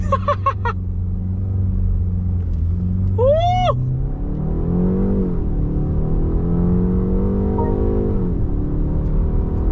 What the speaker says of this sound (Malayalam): wheel spin